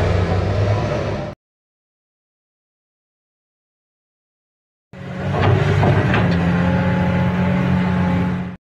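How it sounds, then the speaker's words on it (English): Large mining haul truck on the move, its loud engine roaring for over a second, then silence before a long sustained drone returns with some revving surges and a steady low hum. "Haul truck."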